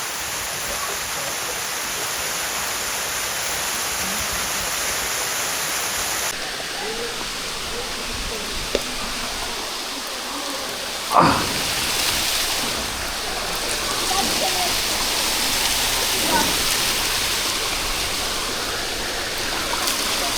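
Rushing water at a hidden waterfall at Ifhsa in Morocco, a steady broadband roar of falling water running throughout, with a brief louder splash or knock partway through and faint voices under the flow.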